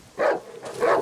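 Two barks from a dog in the horror survival game Darkwood, spaced well apart, mid-distance and somewhat muffled, with no voices over them.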